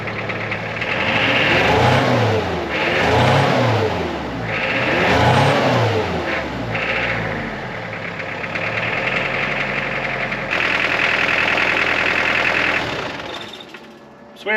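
A Mitsubishi Pajero Mk2 2.8 diesel engine, freshly repaired after injection pump timing work, runs with a clattering knock and revs up and down in several rising and falling sweeps, close and loud, before settling and cutting off.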